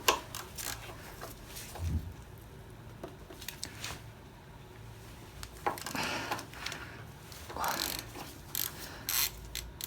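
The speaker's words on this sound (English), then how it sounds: "this time we're going to loosen up the cinch bolt, which is on the front fork here" A 12mm wrench ratchets on the cinch bolt of a motorbike's front fork, giving close, irregular clicks and metallic knocks with short pauses between bursts of turning.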